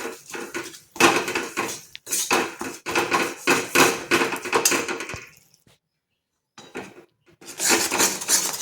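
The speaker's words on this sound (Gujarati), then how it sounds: "હવે આપણે એમાં ગોળ નાખીશું। ગોળને આપણે સતત હલાવતા રહેવાનું છે।" A utensil stirs jaggery in hot ghee in a pan for puffed-rice ladoos, making repeated loud metallic scraping and clattering strokes with a brief silent pause near the end.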